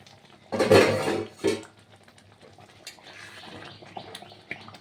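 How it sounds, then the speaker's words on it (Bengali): A metal lid clatters off a pot of simmering mung dal with fish head, two quick loud knocks near the start, then a soft bubbling, faint kitchen clinks after. "ঢাকাটা খুলব, 5 মিনিট হয়ে গেছে।"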